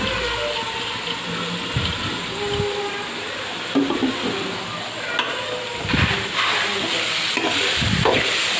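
Shredded cabbage and vegetables stir-frying for egg fried rice, a steady close sizzle broken by repeated scraping strokes of a spatula against the pan.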